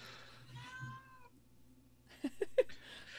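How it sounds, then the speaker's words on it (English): A cat yowls and meows in a few drawn-out cries, then gives three short sharp calls near the end. It sounds fairly close, with quiet gaps between the calls. "you actually do hear a cat yowling"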